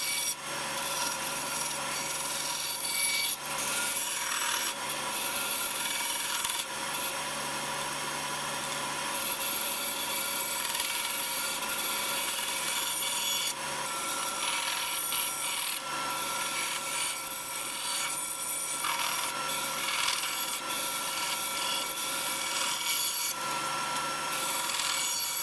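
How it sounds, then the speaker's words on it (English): A bandsaw cuts walnut blanks into rough circular shapes, a continuous close grinding and rasping of blade through hardwood that varies slightly in intensity over a long stretch, with no talking. "I brought them to the bandsaw and started cutting out the rough circular shape that I had traced earlier"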